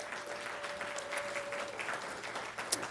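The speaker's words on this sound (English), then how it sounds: "Can we give the team a round of applause?" Soft, dense applause from an audience at a State of the City event, cheering the council team; steady, fairly distant clapping that carries on for a few seconds.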